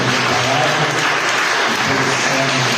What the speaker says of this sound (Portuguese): Aplaude o Senhor mais uma vez.